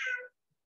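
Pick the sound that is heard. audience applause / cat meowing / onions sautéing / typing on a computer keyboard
cat meowing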